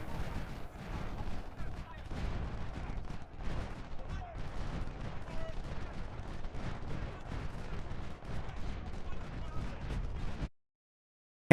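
Musket volleys from troops in a Civil War battle at South Mountain in Ultimate General: Civil War, a continuous crackle of overlapping rifle fire and distant booming cannon for about ten seconds before cutting to silence.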